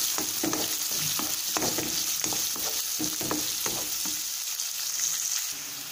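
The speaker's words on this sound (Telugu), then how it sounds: "ఇప్పుడు ఇందులో ఆనియన్స్ వేసుకొని ఫ్రై చేసుకోవాలి." Onions frying in oil with mustard seeds, stirred until light golden: a bright continuous sizzle punctuated by rhythmic spatula scrapes and knocks, close and fairly loud, easing slightly toward the end.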